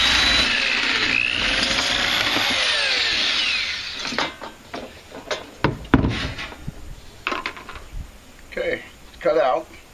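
A power drill bores a series of holes for a porch fountain meant to hold rock, with a steady whine for the first four seconds, then shorter bursts and clatter of handling, close and loud.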